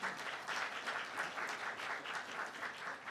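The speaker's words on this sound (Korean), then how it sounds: "뜨거운 박수 부탁드리겠습니다" Warm, sustained applause from a crowd at a Korean unification forum launch ceremony, a steady wash of many clapping hands at a distance, fairly faint, with no talking.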